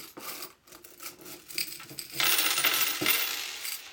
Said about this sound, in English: I would take the coins and I would slide them from one end of the table to the next